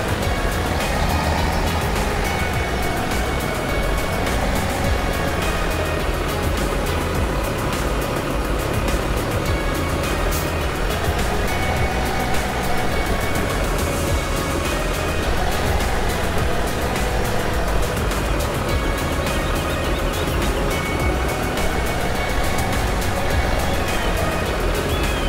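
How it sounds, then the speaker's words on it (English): A tractor in the Farming Simulator video game reverses with a continuous engine drone, its pitch rising and falling in slow waves, loud and steady with no voice over it. "So I'm going to back up the tractor."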